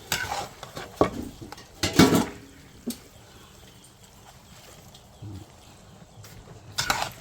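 Food is stir-fried in a wok for a rice-harvest crew's lunch, with sharp metal clangs and scraping strokes at irregular intervals over a quiet sizzle.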